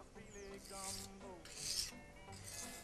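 A steel knife blade is drawn over coarse sandpaper in repeated rasping strokes, each a close, scratchy rub that swells and fades with the motion, and nobody speaks.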